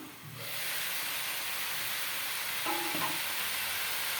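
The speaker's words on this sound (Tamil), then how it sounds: "இந்த சுரக்காய் இப்போ நல்லா வதங்கிடுச்சான்னு பார்க்கலாம்" Bottle gourd sautéing in a pan for adai gives a continuous close hissing sizzle that swells after a brief quiet start, with a few soft clinks of stirring.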